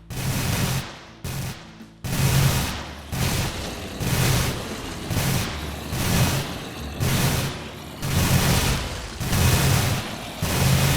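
A customizable turret from the Minecraft Techguns mod fires in repeated loud bursts, about ten evenly spaced blasts of harsh, broad noise with short pauses between them.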